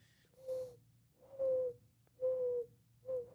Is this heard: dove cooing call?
yes